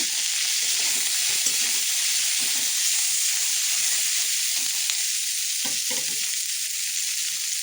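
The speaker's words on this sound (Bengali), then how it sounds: "পেঁয়াজটা ভালো করে ভেজে নিয়ে" Onion fries in a hot pan in a home kitchen, a loud, steady hiss of sizzling oil with faint scrapes of stirring scattered through, and no talking.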